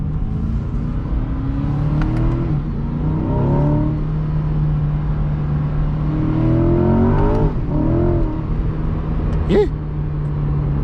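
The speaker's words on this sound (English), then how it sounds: "Let's see what type of acceleration we can get." Chevrolet C8 Corvette accelerating on a snowy winter road, engine rising in pitch through several pulls and gear changes from inside the cabin, loud and steady, with a voice speaking briefly over it.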